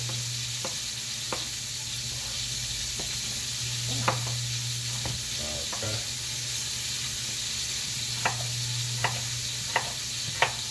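Steady sizzling of Italian sausage frying in a pan, with a low hum and occasional sharp clicks and scrapes of a utensil stirring.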